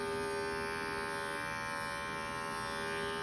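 Electric hair clippers give a steady, close, unbroken buzz with a strong hum while cutting a men's fade haircut, and no one speaks over them.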